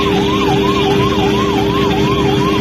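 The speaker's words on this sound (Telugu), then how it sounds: "అంబులెన్స్ డ్రైవరు సైరన్ వేసినా" An ambulance siren wailing steadily up and down in a fast repeating cycle, loud and close, mixed with road traffic noise and no talk.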